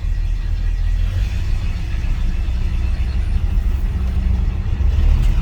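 A 1984 Chevrolet squarebody truck with an Edelbrock carburetor drones steadily and loudly from inside the cab under acceleration, with no clear break where it stumbles.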